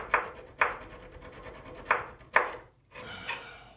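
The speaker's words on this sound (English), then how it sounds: "I've got a feather file for fine cleanup" A feather file worked over a cheap big-box block plane, heard as five or six separate short rasping strokes in a slow uneven rhythm, close and fairly quiet, each stroke ending in a brief pause.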